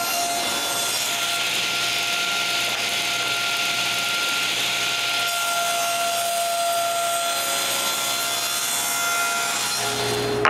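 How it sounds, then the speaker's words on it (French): Table saw with its blade raised to height, cutting both sides of wooden pieces for a wooden tripod; a steady, loud whining cut runs for about ten seconds with no talk. "Je commence par monter ma lame de scie à bonne hauteur, puis ensuite je fais la coupe de chaque côté."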